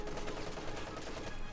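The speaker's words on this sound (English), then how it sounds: "MG34 here, getting both units pinned and suppressed." An MG34 machine gun keeps up dense, sustained automatic fire on a Company of Heroes 2 battlefield, a continuous rattling stream at moderate distance with no break.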